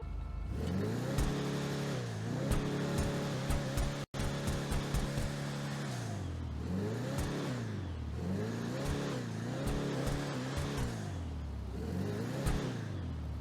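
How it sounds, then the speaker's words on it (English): A Declasse Impaler muscle car engine in GTA Online revs repeatedly in rising and falling surges, loud and close, with a brief cut near the four-second mark. "We're going to do a sound test and a full review on the car."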